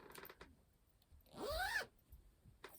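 A zipper on a handmade fabric bag is pulled once in a quick, close rasp lasting under half a second, with soft handling noises before and after in a quiet room.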